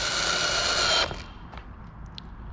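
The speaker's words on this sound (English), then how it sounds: "then get your posi drill, line that up on the top, and then you put that screw in." A Pozidriv power drill drives a screw into a wooden T-halving joint, whining loud and close for about a second before cutting off, followed by a few faint clicks and taps.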